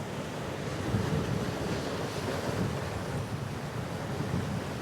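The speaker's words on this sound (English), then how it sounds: "it's super windy out here today" Strong wind roars across a beach in Cozumel, a steady loud rush buffeting the microphone, mixed with the wash of surf and no voices.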